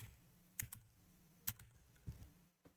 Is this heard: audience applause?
no